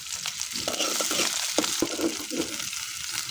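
Onions, chillies and bay leaf fry in hot oil in a pan, a close, steady crackling sizzle with scattered pops and scraping stirs throughout.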